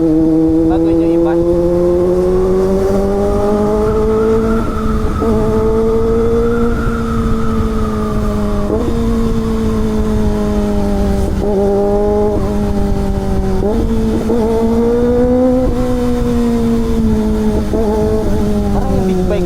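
A Kawasaki ZX25R inline-four motorcycle engine screams at high revs, loud and close, its pitch rising and dipping in repeated sweeps with brief blips between throttle pulls.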